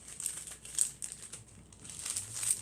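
Wrapper edges being folded around a piece of sugar lace, giving soft crinkling and rustling close by in short irregular bursts.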